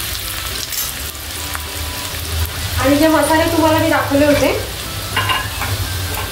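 Chopped onions sizzle in hot oil in a home kitchen while being stirred for a chicken masala, a steady close frying hiss with occasional scraping; a voice talks over it much of the time.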